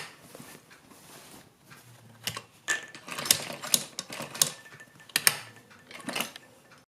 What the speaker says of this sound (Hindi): ये लास्ट डोरी तक हमें इसी तरह से सिलना है